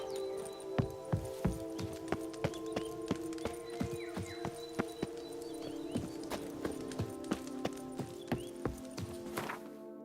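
Roach the horse's hooves clop along in The Witcher 3: Blood and Wine, a steady string of sharp hoofbeats over a bed of music and ambience, with no talking.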